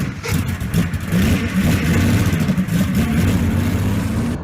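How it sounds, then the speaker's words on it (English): A Mercedes-Benz W201 190E on a test drive gives a steady mid-pitched engine drone with road rumble, moderately loud throughout and with no voices. "This week we are test driving a Mercedes-Benz W201 190E."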